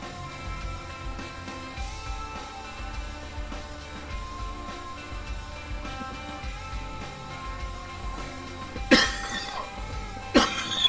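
A man with a lingering cough coughs twice near the end, two sharp, close bursts about a second and a half apart, after a stretch of quieter background sound.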